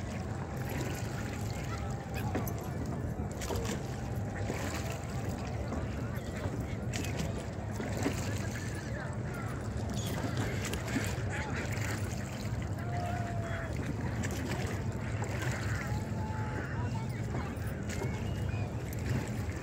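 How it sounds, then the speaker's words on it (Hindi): A wooden rowboat is rowed with wooden oars on the Ganges at the Prayag confluence, a soft ongoing wash of water and boat noise under wind, with faint voices in the background. "इसीलिए ये लकड़ी वाला ही पतवार चलता है"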